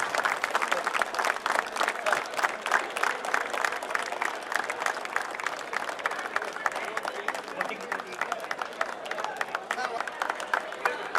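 Loud, sustained applause from a large crowd at a Raichur district-level state government employees' sports meet as the sports torch arrives, dense clapping with general crowd noise throughout.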